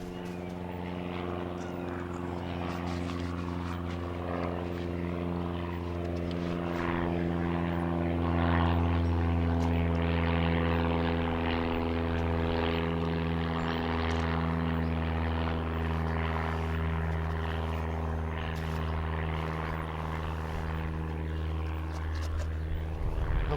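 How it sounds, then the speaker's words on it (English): A small propeller airplane drones overhead near an airport, its steady engine hum holding at moderate distance and swelling slightly midway before easing off. "Hopefully that airplane noise is not super loud."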